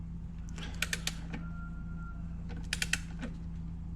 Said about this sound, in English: dial it into the torque that you need, tighten it up